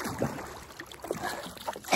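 A wooden rowboat is paddled with an oar across wide open water toward an island on the Kinnerasani, giving soft, faint splashes and gurgles at an irregular rhythm.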